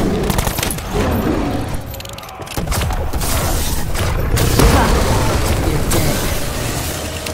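Sustained gunfire from the Call of Duty Black Ops 4 video game, dense overlapping bursts and shots with booming impacts and mechanical clatter running continuously at high loudness, no talking.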